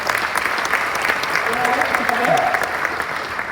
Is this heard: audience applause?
yes